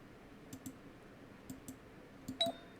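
Light computer mouse clicks, made while buying the DFS Starter Kit online, come in small spaced pairs and then a final cluster. They are quiet and close against a faint background hum.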